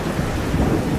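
Summer rain and thunder, a dense, steady hiss of rainfall over a low rumbling roar, loud and continuous for a brief moment.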